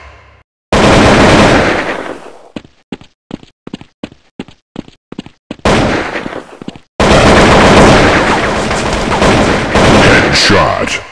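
Sniper gunfire in the Android shooter game Critical Strike CS, loud cracking shots with a burst of rapid evenly spaced pops between them, then sustained heavy shooting close up.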